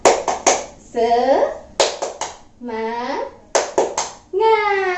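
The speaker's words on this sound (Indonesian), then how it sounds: "kita warming up dulu ya dengan melakukan tepuk semangat" Classroom students performing the rhythmic 'tepuk semangat' clap, with sharp clusters of claps alternating with children chanting between the clap bursts.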